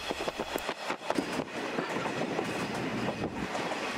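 Series 50 passenger coaches on a night train run at speed, giving a steady loud rumble with a rapid, irregular clickety-clack of wheels over rail joints throughout.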